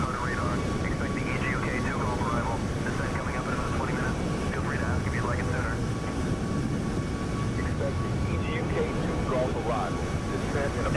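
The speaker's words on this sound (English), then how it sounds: "just let the sounds of the airplanes go" Airliner engine noise inside a Boeing 737 MAX 8 flight simulator on a Kuala Lumpur to Jakarta route, a steady broadband roar and hum filling the whole stretch, with talk-like murmur mixed in.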